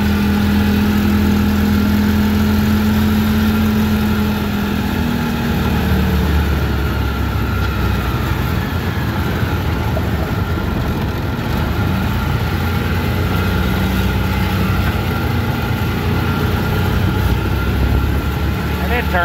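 A 2005 Polaris Ranger 500 4x4 utility vehicle engine runs steadily and loud throughout, a continuous mid-low drone with a brief steady tone early on, close to the microphone.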